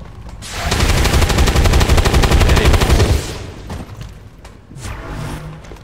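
Gunfire in the XCOM 2 video game as a shot is taken at a soldier behind half cover. A dense, loud burst of rapid shots lasts about two and a half seconds, then gives way to quieter game sounds.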